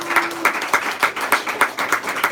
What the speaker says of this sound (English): Let's give Will a big round of applause